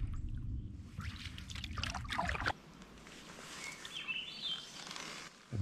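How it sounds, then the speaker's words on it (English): On a calm lake morning in Algonquin Park, faint birdsong rises over quiet water after paddle splashes and the knock of a canoe. "The birds are singing."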